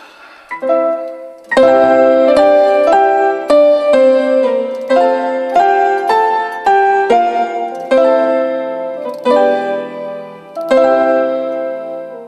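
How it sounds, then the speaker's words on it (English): Grand piano harmonies from a synthesizer play alone, chords struck in a steady, fairly quick rhythm, each note ringing bright and clear with a short decay. "two harmonies on a grand piano on the synthesizer side"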